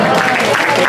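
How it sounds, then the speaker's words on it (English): A round of applause for a guest at an evening family gathering: a dense, loud wash of many hands clapping, with crowd voices mixed in, cut short after a moment. "All right, round of applause for Terry."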